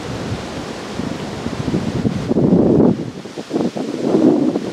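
Gusty wind rushes through leaves in the woods at a hunting deer camp on a cold opening day, a steady broadband roar that swells and eases in waves, with no voices.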